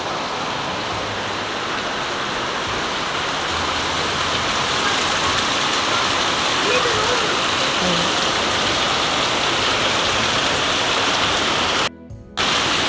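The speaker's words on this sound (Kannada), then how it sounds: "ಹೊರಗಡೆ ಜೋರು ಮಳೆ ಬರ್ತಾ ಉಂಟು ನೋಡಿ." Heavy rain falling outside, a dense continuous roar of water on surfaces that stays loud and steady, with a brief dropout near the end.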